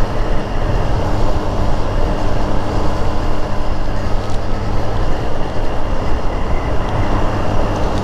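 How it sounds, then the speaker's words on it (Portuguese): A 2024 Triumph Street Triple 765 RS engine runs with a steady, dense mechanical roar that stays loud and continuous throughout, with no voices. "Essa moto, galera, ela gira bem."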